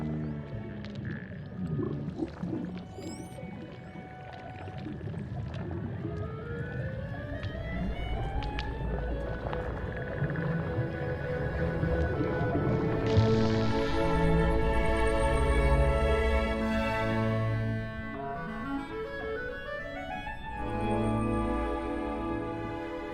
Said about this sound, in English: That's the sound of a busy morning on a coral reef.